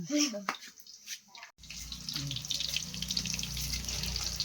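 Water runs steadily from a tap, starting abruptly partway through with a continuous broadband rush that continues to the end, preceded by a few quiet knocks and rustles; no speech is heard.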